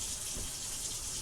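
Warm water runs from a kitchen tap in a steady, continuous hissing stream, close and even throughout with no voices.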